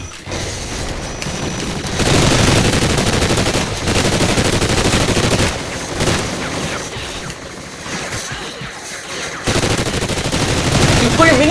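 A minigun in Call of Duty Ghosts fires long, loud, continuous bursts that stop briefly and start again, with players talking underneath the shooting.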